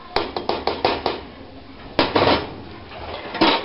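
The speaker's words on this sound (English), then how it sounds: "Give it a stir." A spoon stirring vegetable barley soup with beans and peas in a pot, giving a run of quick clinking knocks against the metal followed by a couple of scraping clatters, close and fairly loud.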